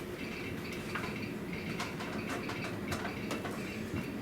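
A train on a quarry railroad rumbles steadily nearby with broadband rolling noise and scattered metallic clanks and clicks, continuous and fairly loud, with no talking.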